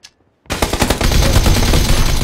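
Heavy gunfire in a video game, erupting after a brief quiet into a loud, dense burst of rapid shots that keeps going without a break.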